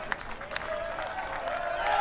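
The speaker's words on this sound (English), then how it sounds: "Gets a nice applause from the bench" Players on a high school baseball team bench applaud a sophomore catcher, a loose scattering of claps that builds slightly toward the end, faint and somewhat distant with a commentator's voice running over it.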